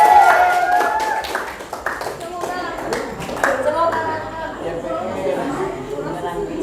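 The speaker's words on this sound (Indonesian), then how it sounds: "tepuk tangan untuk kelompok 1" Group of classmates clapping for a student team in an Indonesian classroom teaching session, scattered uneven claps under loud overlapping chatter and young voices, fading somewhat after the first seconds.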